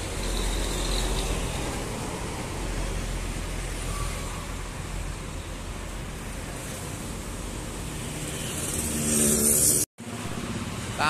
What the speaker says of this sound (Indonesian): Tampak melintas nih dari arah terminal Mangkang nih menuju ke arah timur, ini ada bis Ramayana ini guys.